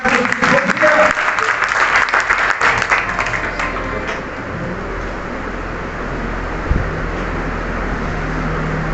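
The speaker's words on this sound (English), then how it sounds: "Please give a huge round of applause to Sister Sophia." An audience at a farewell programme bursts into loud, sustained clapping that tapers to a scattered patter and then fades away.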